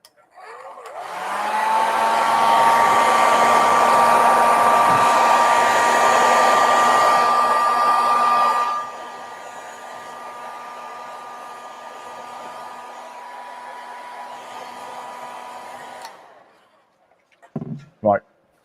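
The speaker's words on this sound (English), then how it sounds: "use the airdryer a minute" A hair dryer blows steadily at full power to dry paint on a model LNER lineside store kit, loud and close, then drops to a lower setting before cutting off; brief handling knocks follow.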